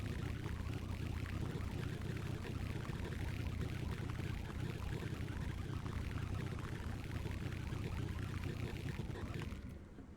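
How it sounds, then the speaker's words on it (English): Water pours continuously in the sand-based game Sandustry, a dense, rushing wash that fills the whole stretch at steady loudness before easing slightly at the very end. "fill this up with water"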